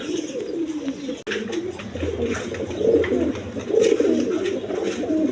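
Pigeons, among them a male Lahori, coo continuously in low rolling phrases, close by and clearly audible, with a sharp brief click early on and no talk.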